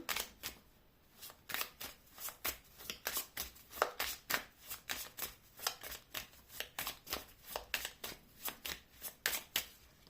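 A deck of cards is riffled and shuffled again and again, a quick run of crisp flutters close by, with no talking.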